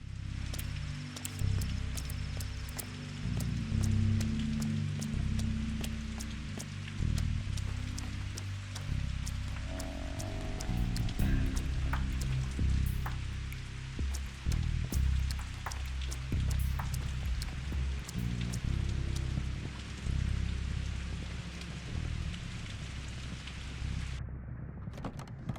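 Steady rainfall in the video game Pathologic 2 patters continuously on the ground, with scattered drips and low ambient rumble, and no voices.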